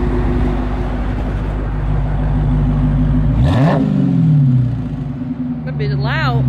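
A 2021 Dodge Charger Redeye Hellcat revving, a loud, deep, close exhaust roar that holds steady, climbs in pitch midway and then drops back to a lower drone, with a brief voice near the end.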